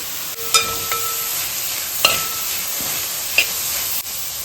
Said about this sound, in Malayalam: നമുക്ക് ഇഞ്ചി വെളുത്തുള്ളി പേസ്റ്റ് ഇട്ട് കൊടുക്കാം,